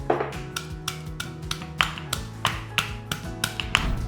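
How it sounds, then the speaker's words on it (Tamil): A steady series of sharp taps as unpeeled garlic cloves are crushed in their skins, about two blows per second, close and distinct. "அந்த பூண்டை தட்டுடா. அப்படியே தோலோடு அப்படியே தட்டிடலாம்."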